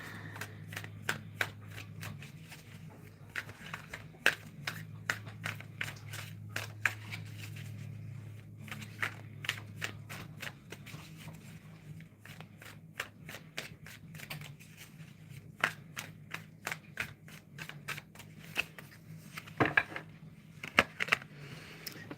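A deck of cards is shuffled and handled, giving repeated crisp riffles and snaps in irregular bursts over a low background hum, with no talking.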